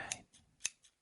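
Close snips of scissors trimming hemp buds at harvest, four quick metallic clicks within a second, two of them sharp and bright, the others softer.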